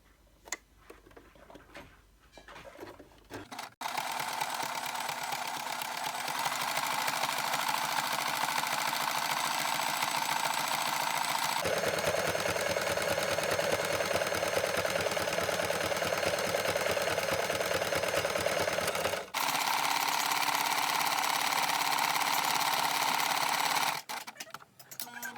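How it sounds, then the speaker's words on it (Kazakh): A sewing machine stitches with lurex thread in steady, continuous running that holds close and fairly quiet for about twenty seconds, changing pitch once partway through and then stopping. "Енді бисмиллах деп тігіп бастаймыз."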